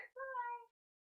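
A single short, faint meow from a feral kitten, heard alone with nothing after it.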